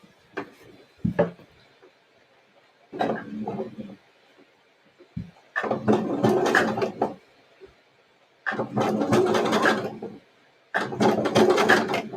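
A sewing machine stitches shirred fabric for a top in several bursts of steady mechanical whirring, separated by quiet pauses and soft handling sounds, close up.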